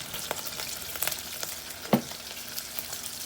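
Garlic fries for chicken misua with ground chicken, a soft close sizzle with light scattered crackles and one sharper clatter midway, fairly quiet and with no talk.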